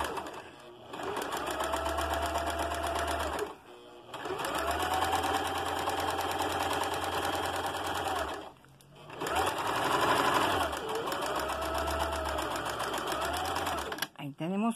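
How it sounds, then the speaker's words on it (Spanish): A sewing machine runs three long, steady bursts of basting stitches on dress fabric, a close, even mechanical whir with brief pauses between passes and a short clatter at the end, with no talking. "vamos a pasar un pespunte, dos pespuntes con la puntada más grande"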